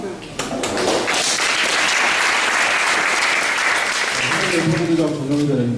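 Sustained applause from a crowd gathered for a Korean Marine Corps veterans' association visit to Yeonpyeong Island, loud and steady throughout, with voices talking through it and a voice emerging near the end.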